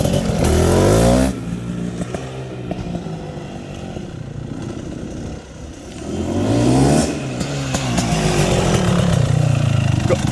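A super-tuned 2023 GASGAS 500 BRC motorcycle lugs low in its power band in third gear while riding figure eights, a loud, close, uneven chugging engine that dips midway and swells again near the end, with no talk.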